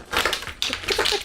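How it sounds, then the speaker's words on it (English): Crisp papery riffling of tarot cards being shuffled close to the microphone, a quick flurry in two bursts. "Tarot card shuffling ASMR?"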